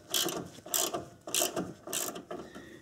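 Ratchet clicking in four quick bursts as a bolt is tightened during a CV axle replacement on a Subaru with an EJ25 engine, worked with hand tools only; close, crisp and alone with no talking.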